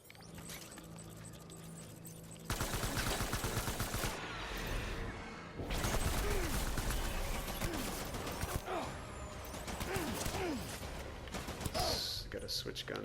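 Rapid gunfire bursts in Death Stranding, a dense clattering fusillade with mechanical rattles and sharp reports, loud and close, with faint speech underneath.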